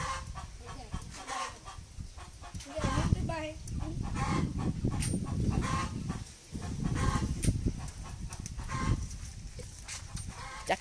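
Chickens cluck and call close by in an outdoor setting where quail eggs are being grilled, a busy, continuous flock sound with scattered louder squawks and people talking now and then.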